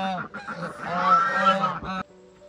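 Ducks call loudly and close in a rapid, overlapping run of nasal honking quacks that stops abruptly, leaving a faint tone behind.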